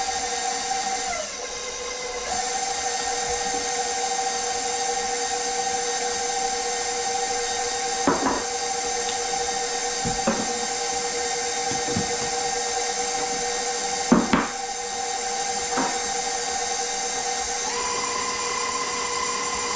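An electric mixer whirs steadily through peanut butter bar batter, a constant motor whine that dips in pitch briefly as it bogs down, broken by a few soft knocks against the bowl.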